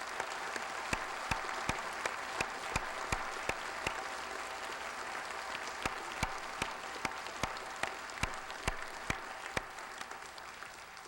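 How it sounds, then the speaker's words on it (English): Steady applause from a large audience at a 1999 university spring graduation ceremony fills the space, a dense wash of clapping with a few sharper individual claps standing out, no voices. "Let's give the class of '99 a big round of applause."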